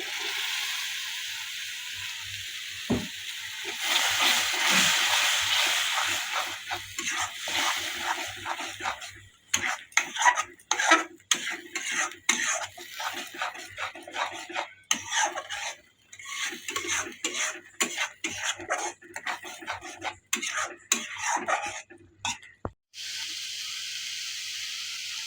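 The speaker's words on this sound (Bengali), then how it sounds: "এখন আমরা টমাটোর পেস্টটা দিয়ে করে ভাজবো" Masala frying with tomato paste for a Bata fish curry, stirred in a pan: a steady sizzling hiss followed by repeated clinks and scrapes of a spoon against metal, close and without talk.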